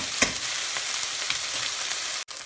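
A tablespoon of minced garlic and ginger frying in a pan makes a steady, dense sizzle with light stirring, then a brief cut near the end.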